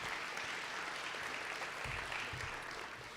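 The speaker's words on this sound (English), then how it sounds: "More applause." Applause from a room of staff at a leadership away day, steady moderate clapping that continues evenly, fairly distant, with a few low thumps midway.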